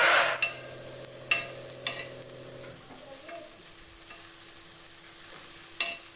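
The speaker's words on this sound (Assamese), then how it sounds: "এইখিনিও অলপ সময়ৰ কাৰণে ভাজি থাকিব।" Onion, ginger, garlic and chilli fry in a pan with a faint sizzle and several sharp utensil clicks of stirring, the hiss quietening after the first few seconds.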